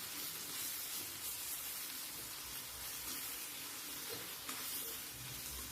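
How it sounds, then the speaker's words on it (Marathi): Finely chopped tomato and onion being sautéed in hot oil make a soft, continuous sizzle, faint and even, with an occasional small pop and no talking. "टमाटा पण आपल्याला तेलावर छान परतून घ्यायचा आहे बघा अशा पद्धतीने"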